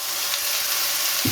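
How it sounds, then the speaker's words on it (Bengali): Onions fry in oil with dried chillies for beef kala bhuna, a dense continuous sizzle heard close up with a soft thump at the very end. "পেঁয়াজটা আমার ভাজা হয়ে গেছে"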